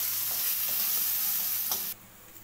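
Mustard seeds and a ground garlic, green chili and ginger paste fry over a low flame for a Banarasi breakfast dish, giving a steady, close hiss of sizzling oil with light stirring that cuts off abruptly near the end.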